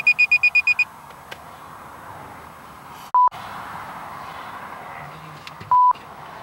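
An electronic device inside a car emits a quick run of about seven sharp beeps, followed by two single longer beeps spaced apart over steady road hum.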